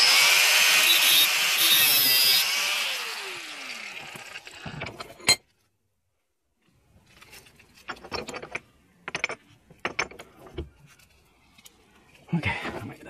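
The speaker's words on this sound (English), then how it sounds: "I'm gonna use a 716 drill bit." A power drill with a 7/16 bit whirs loudly for several seconds, then stops; after a pause, short bursts of drilling and scraping follow intermittently, fitting an AN fitting to an H22 thermostat housing.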